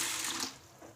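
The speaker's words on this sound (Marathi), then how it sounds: "आता यामध्ये पाणी टाकून घ्यायचं आहे।" Water pouring into a bowl of sago pearls for rinsing, a steady splashing stream throughout, close and fairly loud with no talk.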